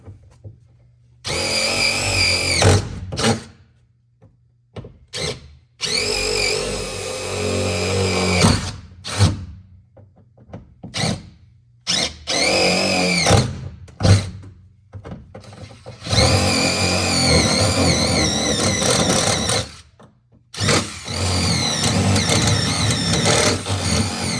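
A power tool cuts a hole through a car's floor pan for a manual transmission swap, loud harsh grinding and whining in repeated bursts separated by short silences, close and without any speech.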